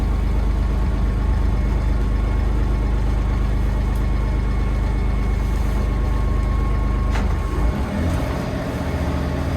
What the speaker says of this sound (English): we ended up just motoring the whole way